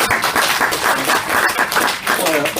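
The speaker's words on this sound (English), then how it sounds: "Worth a round of applause" Short round of applause during a health policy chat, uneven clapping from a small group mixed with voices talking over it.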